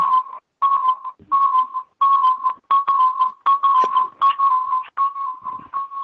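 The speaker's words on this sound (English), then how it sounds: "Sounds like spring peepers." High, piercing peeping calls repeat rapidly in short bursts, many overlapping into a near-continuous shrill chorus of frogs.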